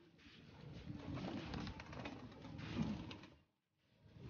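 Pigeons cooing close by in a soft, continuous throaty murmur, pausing briefly before resuming.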